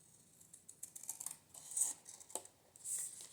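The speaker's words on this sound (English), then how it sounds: "And then my scissors, I'm just going to cut right on that line." Scissors snip through paper along a drawn line during a craft project, faint and close, giving a few short crisp cuts spaced irregularly against a quiet background.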